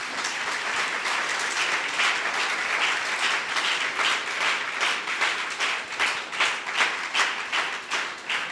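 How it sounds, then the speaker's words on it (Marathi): A church congregation at a Palm Sunday service claps loudly for the worship team and its leader. The applause is sustained and fairly close, and near the end it turns into a steadier, rhythmic beat of individual claps. "आपण आपल्या वर्शिप टीमसाठी, वर्शिप लीडरसाठी जोराने टाळ्या वाजवू"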